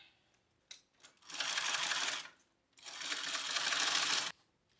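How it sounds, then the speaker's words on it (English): A sewing machine top stitching a fabric wallet, running in two steady bursts of rapid whirring with a short pause between them, fairly close and without talk. "And let's go and do a top stitch."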